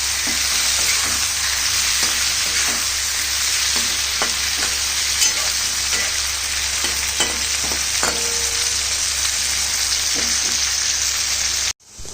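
Tomato sizzling and frying in a pan after a sprinkle of salt, a steady, loud crackle with occasional stirring scrapes throughout, ending abruptly.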